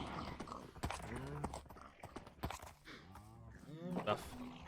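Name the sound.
horse hooves clip-clopping in video game TerraFirmaGreg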